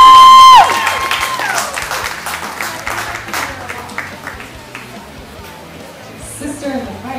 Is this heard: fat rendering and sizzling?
no